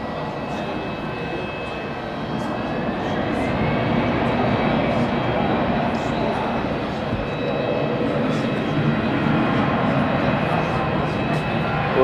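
A BA jet plane at Hamburg Airport produces a distant, steady engine roar that slowly grows louder, heard from a plane-spotting spot in the evening with people talking nearby.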